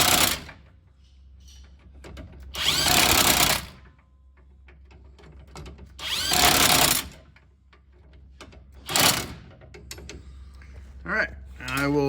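An impact-style power tool tightens bolts on the suspension of a 2013 Chevrolet Silverado during a CV axle replacement, firing in three loud rattling bursts of about a second each, separated by quieter workshop noise and brief clanks.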